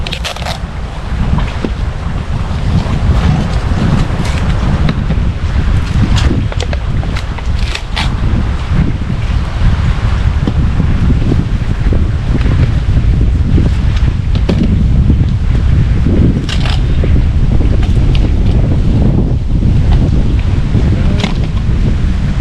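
Strong wind roars and buffets the microphone continuously, a loud rumbling gust noise with faint sounds of water beneath it.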